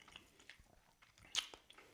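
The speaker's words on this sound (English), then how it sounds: "Can you hear the crunch?" Close-up chewing of a crunchy apple and cinnamon cake, with a few soft bites and one sharp crunch midway, quiet and without talk.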